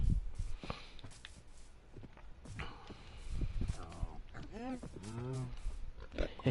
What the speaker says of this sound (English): They definitely added sounds for the cows. And the pigs.